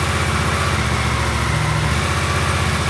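Suzuki GSX-8R engine running close by in first gear, its steady idle pulse lifting slightly in pitch midway as the clutch slips, then settling back; no voices.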